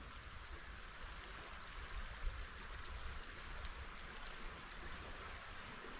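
Locust Creek at Tuscarora State Park in northeastern Pennsylvania runs as a faint, steady wash of flowing water with no voices.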